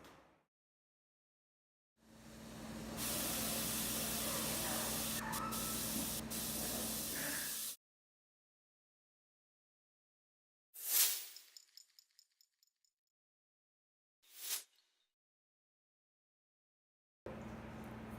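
A bath bomb loaded with extra baking soda fizzes in water, a steady broadband hiss sustained for several seconds before stopping, followed by a couple of brief splashy bursts and another fizz starting at the end; no talk.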